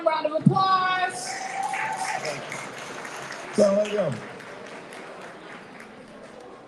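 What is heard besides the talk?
audience applause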